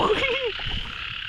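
A frog croaks nearby at night in a rainy rural Thai setting, a few throaty rising calls at the start over a steady high insect drone.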